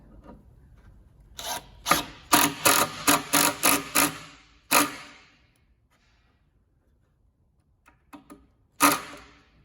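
A screw being driven into a plywood desk during assembly, heard as a burst of rapid, loud grinding pulses up close, followed by a single longer grind and, after a quiet pause, a couple of softer knocks.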